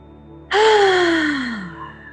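During a chair yoga session, a single deep breath ends in a long, voiced sighing exhale that falls slowly in pitch, close and fairly loud, after a quiet pause.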